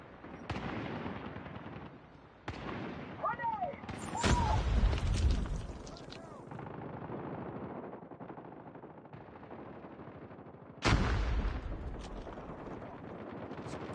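Bursts of automatic gunfire and explosive booms from the mobile shooter Call of Duty Mobile in multiplayer, loud rapid volleys broken by short pauses, with a sharp heavy blast near the end.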